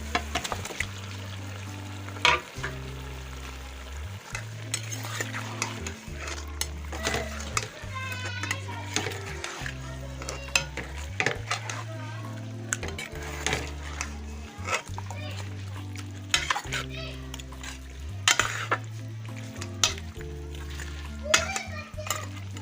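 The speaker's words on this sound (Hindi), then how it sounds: "मसाला हमारा फ्राई हो गया माशाल्लाह, बहुत अच्छी खुशबू आ रही है। मेथी मसाले में हो तो बहुत खुशबू आती है। अब मैं चिकन डाल रही हूँ।" Chicken pieces are added to frying masala in a karahi, producing a sizzle with clatters and scrapes from the stirring spoon against the pan, beneath talking and a low steady background.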